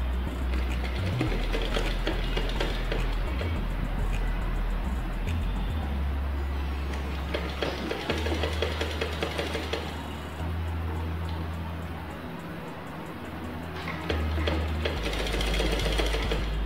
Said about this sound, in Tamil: இப்போ நான் பர்ஸ் தைக்க போகிறேன்.